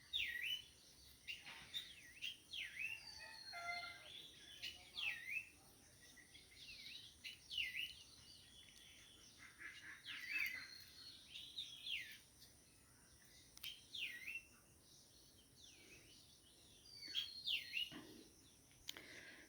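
Birds chirp faintly outdoors near free-ranging chickens pecking in a field, with short, repeated tweets and calls scattered over a quiet, distant background.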